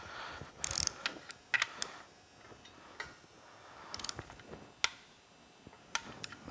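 A torque wrench clicks and ratchets while tightening a 27 mm cam chain tensioner on a Polaris RZR engine during a top-end rebuild, giving several sharp, close metallic ticks spaced irregularly over quiet workshop background.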